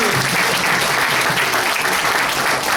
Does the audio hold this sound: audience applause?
yes